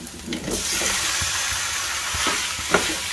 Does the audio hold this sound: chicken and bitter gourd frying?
yes